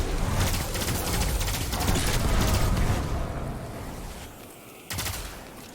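Weapons fire in rapid bursts during a Destiny 2 fight, with crackling shots and mechanical clatter. The loud firing fades toward the end, then one sharp burst returns.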